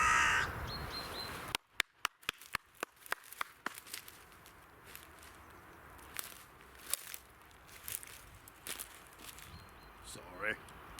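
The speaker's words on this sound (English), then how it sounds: "I really like crows. But he complains, do you hear him?" Crows caw outside a stadium, a loud call near the start followed by sharp clicks and scattered footsteps-like taps, with someone talking over part of it.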